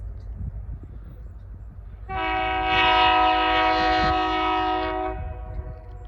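A heavy rock train on the CCET line, pulled by all available locomotive power, rumbles past with a loud sustained multi-tone horn blast rising over the rail noise, then fading back to the rolling rumble.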